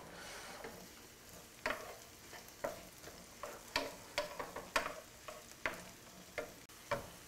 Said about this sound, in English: Put onions and garlic. That's they gotta fry.